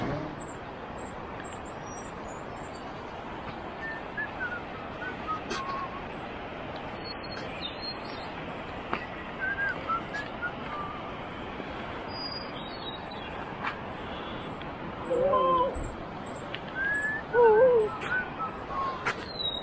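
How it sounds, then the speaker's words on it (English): Birds call near Exit Glacier in Alaska, with faint, scattered high chirps and short whistled notes over a steady outdoor wind hiss. A few brief bursts of nearer calls come toward the end. "They're bird calling over there."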